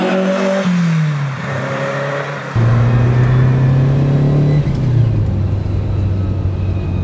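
A 1975-1985 Ferrari 308 GTB's flat-plane crank engine revs up and settles, then surges again into a loud sustained high-revving drone, close and dominant with a harsh rasp.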